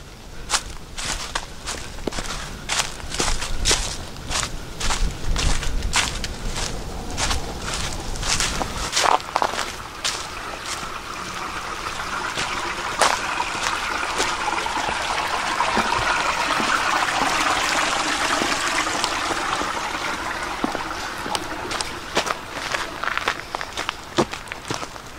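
Footsteps crunch steadily on a rocky downhill stretch of the Appalachian Trail in Pennsylvania, close and fairly loud, with breezy wind rushing in the background.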